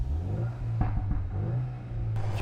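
Cupra car with an upgraded aftermarket exhaust idling with a low, steady rumble and a quick blip of revving, heard from a moderate distance and fairly quiet.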